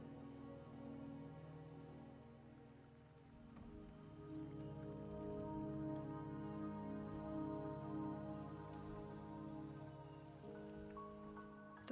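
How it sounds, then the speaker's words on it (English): Steady rain falls in a video game, a soft continuous patter on surfaces with a quiet hum beneath it, heard alone without voices. "The rain is subsiding, and the sky will soon clear."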